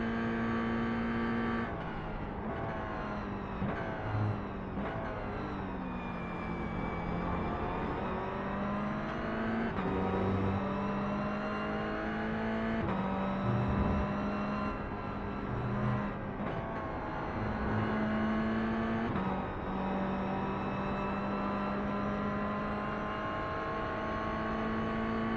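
BMW race car engines drone and rev continuously, pitch rising and falling through gear changes as cars pass nearby on a track during an endurance race.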